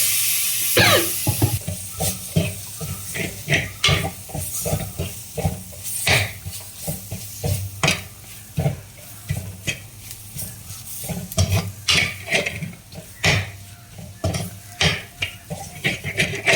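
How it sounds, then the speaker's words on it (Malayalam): Tomato going into a sizzling prawn curry masala in a pan, loud crackling fry with repeated stirring scrapes and clanks throughout, close and busy. "ഇതിലേക്ക് തക്കാളി ചേർത്ത് കൊടുക്കാം"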